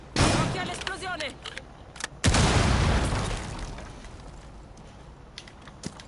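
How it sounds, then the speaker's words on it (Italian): A loud explosion bursts in a Rainbow Six Siege match, with a second heavy blast a couple of seconds later, then a long rumbling decay under faint game noise. "Occhio all'esplosione."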